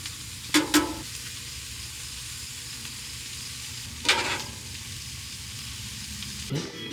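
Burgers and potatoes frying on a Blackstone griddle, giving a steady low sizzle throughout with a few brief louder bursts of hissing and scraping; no one speaks.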